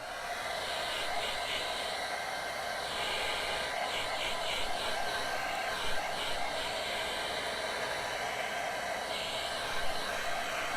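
A hair dryer runs steadily throughout, a constant loud whooshing hiss with a faint motor whine, no pauses.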